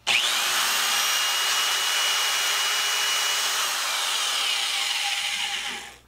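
A power drill with a hole saw whines steadily at high speed, grinding through material with a continuous buzzing rasp for several seconds before spinning down.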